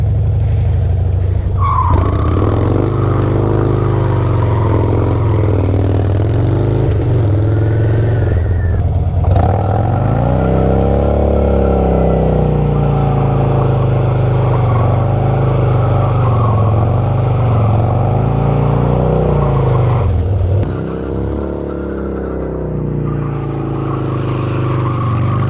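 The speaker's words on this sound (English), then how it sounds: "there's my only rolling burnout that'll do for the night" A Harley motorcycle does a rolling burnout, its engine roaring loud and close with repeated throttle surges while the locked rear tire squeals and skids throughout, then the revs drop off near the end.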